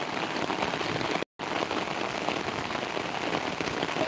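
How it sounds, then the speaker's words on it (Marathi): Heavy downpour at a riverside fishing spot, a loud, dense roar of rain hammering surfaces without letup, broken by a split-second gap near the start. "मुसळधार पाऊस पडत आहे"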